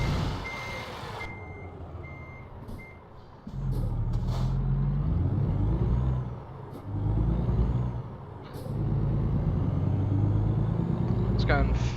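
A big rig reverses in American Truck Simulator, its backup alarm beeping in a steady series before an air brake hiss, then a deep diesel engine rumble that swells and dips as the truck moves.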